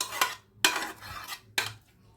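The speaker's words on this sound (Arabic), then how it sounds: "نقلب بقى كله كده مع بعضه اهو" A spoon scrapes and clanks against a pot, stirring an onion and pepper mixture in three short bursts with quiet pauses between them. Close and fairly soft, with no talking.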